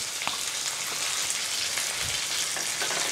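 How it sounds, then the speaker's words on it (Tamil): Chopped onion, garlic and ginger sautéing in hot oil for restaurant-style chicken manchurian, a steady close sizzle and crackle with faint stirring clicks, no talk. "இது எல்லாத்தையும் லைட்டா நல்லா வதக்கி விட்டுக்கலாம்"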